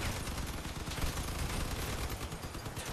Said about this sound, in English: The Pope is shooting at me from his side over here